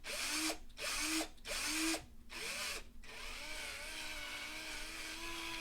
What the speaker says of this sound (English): you kind of just want to wiggle your drill around in a circle to try to get that ring